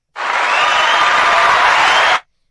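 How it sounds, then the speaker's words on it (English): Audience round of applause, a dense steady burst of clapping from a crowd lasting about two seconds, loud and close, starting and stopping abruptly with no talk over it. "You get a round of applause."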